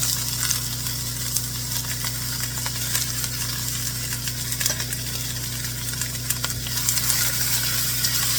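Celery, onion and carrots frying in a pot, a steady close sizzle with faint stirring clicks over a low background hum, no talking.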